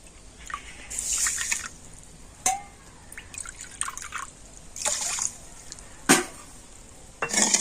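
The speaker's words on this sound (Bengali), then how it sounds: "এবার আমি কড়াতে দিয়ে দেবো এক বাটি চিনি আর ওই একই বাটি মাপ করে দিয়ে দেবো দেড় বাটি জল" Sugar and water poured into a wok for rasgulla syrup, with intermittent splashes, drips and trickling bursts, some sharp and loud, with quiet gaps between.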